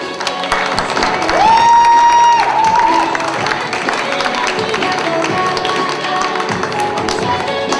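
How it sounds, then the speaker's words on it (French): Applause at a French poetry slam as a performer is cheered, with a short whistle or tone rising over the clapping early on; moderate crowd clapping continues beneath faint voices. "On l'applaudit bien fort."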